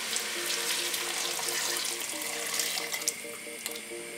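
Stock pours into a pot of leek and potato soup, a steady close liquid splashing and trickling stream with a faint tonal ring from the pot, moderately quiet and continuous.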